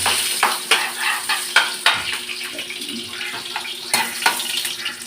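Garlic sizzling in a hot pan for a simple home-style dish, with a steady broadband frying hiss broken by a few sharp stirring clinks and scrapes, close and fairly loud, with no voices.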